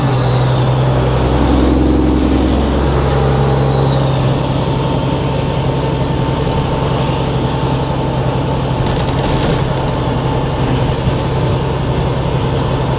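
A loud, deep Kenworth W900 semi truck engine drones steadily with a heavy low rumble and a whining tone, sounding like it is idling or cruising.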